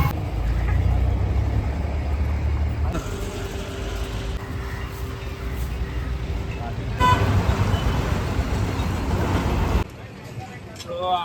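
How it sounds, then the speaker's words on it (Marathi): A road in a traffic jam at Ambadi Naka gives a close, continuous roar of engines with a long horn blast partway through and more short toots near the end. A person speaks over the noise. "फुल ट्रॅफिक आहे, नाका जाम आहे आमचा, बघू शकता तुम्ही"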